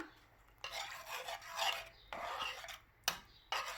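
A spoon scrapes and rubs around a pan of jaggery syrup and coconut milk in bursts, with short pauses between strokes, close and fairly quiet, with no voices.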